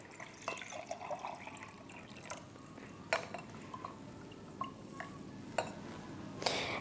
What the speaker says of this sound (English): First, you pour the muddy water into another container.